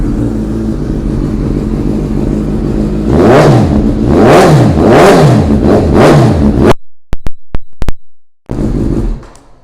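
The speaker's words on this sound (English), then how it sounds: "We'll give it a fire up so you can hear it." A 2020 Suzuki GSX-S1000F ABS motorcycle idles loudly, then rises through four rhythmic throttle blips before the sound breaks off abruptly in short choppy bursts and returns to idle.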